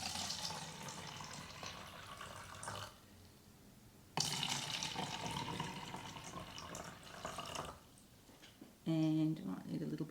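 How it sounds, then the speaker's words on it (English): Tap water pours and trickles into cups in short splashing bursts with pauses between them, faint and close, while people talk over it. "So we're going to put some water into each cup."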